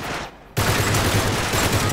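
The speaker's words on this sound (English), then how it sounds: "I'm definitely shooting his hand!" Dense, sustained automatic gunfire from the video game Uncharted 3 erupts loudly after a brief lull and keeps rattling without pause.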